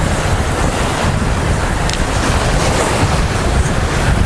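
Surf rolls in at Tsilivi Beach, Zakynthos, Greece, a loud continuous wash of waves mixed with heavy wind buffeting the microphone, with no talking.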